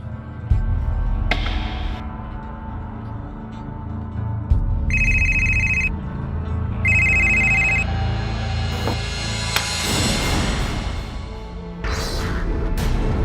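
A telephone rings in two short bursts of electronic trilling over a busy, noisy background of movement and commotion.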